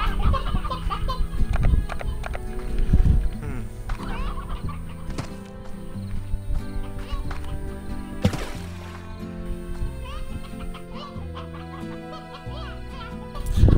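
Chickens cluck and squawk in the Slime Rancher video game, their short, fowl-like calls scattered over busy, percussive in-game music that continues throughout.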